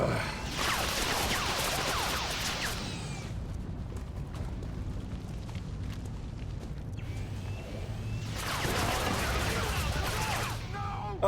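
Gunfire in the tactical game XCOM 2 Long War of the Chosen, two dense bursts of rapid shots at the start and end with a quieter rumbling lull between, moderately loud and without talk.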